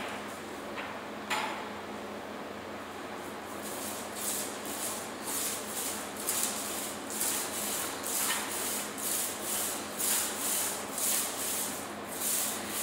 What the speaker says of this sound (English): he's pressing actually pretty hard on it to squeegee it, basically, onto the floor